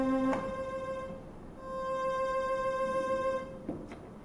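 A synthesizer holds a steady harmonic tone whose pitch wavers in a regular vibrato, fairly loud and alone, cutting out briefly before resuming with a faint click near the end.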